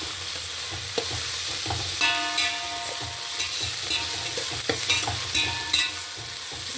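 Green chillies and onions fry in a pan with a loud, close sizzle, punctuated by repeated scraping and clinking as a spatula stirs, with no voices.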